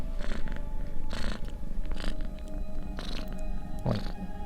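A sleeping cat purrs steadily inside the horror video game Creepytale Chapter 2. The low rumbling purr runs continuously, close and moderately loud, over a droning in-game background.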